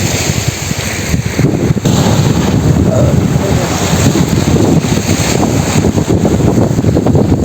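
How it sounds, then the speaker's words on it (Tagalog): Steady roar of surf and big crashing waves at a beach in San Juan, Batangas, heavily buffeted by wind against the microphone, continuous and loud throughout. "Lalaki ng alon."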